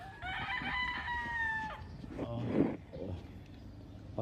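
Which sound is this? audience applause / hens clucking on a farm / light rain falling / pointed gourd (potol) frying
hens clucking on a farm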